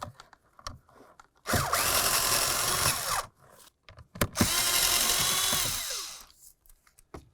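Power drill or impact driver backing out 8mm-headed bolts holding the blower motor of a 2004-2006 Scion xB, two sustained loud whirring bursts of roughly two seconds each, separated by brief clicks and handling noises, with no talking.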